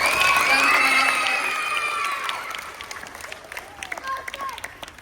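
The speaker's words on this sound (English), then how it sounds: "Can you give a round of applause for them?" A class of fourth-grade children applauds and cheers for visiting Saints football players, a burst of clapping and excited shouts that starts loud and gradually fades into scattered claps and voices.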